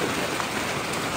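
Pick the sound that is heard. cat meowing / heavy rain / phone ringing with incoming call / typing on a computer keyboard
heavy rain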